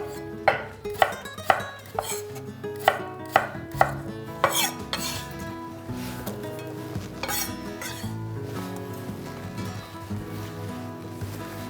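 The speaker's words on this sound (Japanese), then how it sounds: "縦に切り、向きを変えて切ってあげましょう。" Knife chopping on a cutting board, a run of sharp, evenly spaced strikes in the first few seconds, then quieter kitchen handling as a paprika is cut lengthwise and then crosswise.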